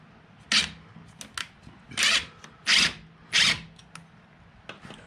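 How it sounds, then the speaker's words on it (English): Short bursts of a power drill whirring into a boat hull to mount Lenco electric trim tabs, about five runs of a second or less each, separated by pauses with quiet handling noises. "Now we just gotta drill her in."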